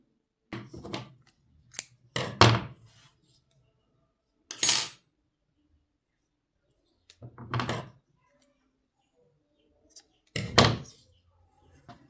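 Scissors snip the yarn tail of a crochet leaf garland in several sharp, close metallic cuts separated by quiet pauses.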